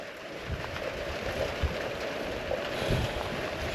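Heavy, non-stop rain falls outside a stone barn under renovation, a steady wash of hiss with occasional heavier drips and patters, fairly close and constant, with no talking.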